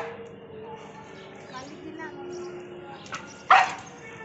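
A German shepherd gives a single sharp, fairly close bark near the end, after a few softer yips, while people talk in the background throughout.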